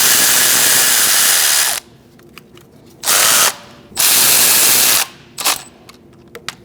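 Power ratchet or impact tool snugging intake manifold bolts on a 2008-2014 Mercedes-Benz C300 3.0L V6, three loud close bursts of whirring, the first about two seconds long, separated by quiet pauses with small clicks.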